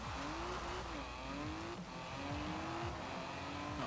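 Heavily modified 1958 MG MGA Twin-Cam sports car driving off-road in Forza Horizon 4, engine droning with repeated gear-shift pitch sweeps and tire squeal, steady and continuous throughout.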